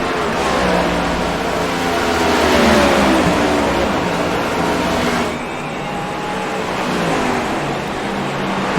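Stock cars race nose to tail on an asphalt track at a Thursday night event, with loud engines roaring and shifting in pitch as they pass close by.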